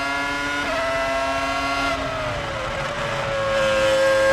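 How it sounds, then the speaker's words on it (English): A Formula 1 car's V10 engine at racing speed during the 2000 Malaysian Grand Prix gives a loud, sustained high-pitched howl from on board, its pitch sliding down and then climbing again with the gear changes. "listen to that V10."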